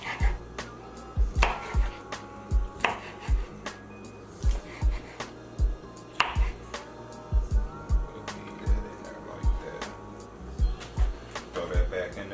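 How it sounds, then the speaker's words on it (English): A sharp knife chops through baked rib tips on a cutting board in a series of distinct, irregularly spaced thuds, some in quick pairs, with faint kitchen background. "What we're going to do is we're going to chop these up."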